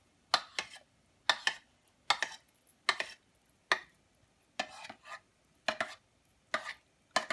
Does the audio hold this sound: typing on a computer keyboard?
no